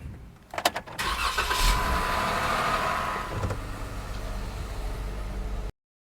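Cars from a private collection, among them a McLaren 650S Le Mans Edition and a Mansory Bentley, being started up nearby, with a few clicks and a crank, then an engine catching and settling into a loud, steady idle that cuts off abruptly.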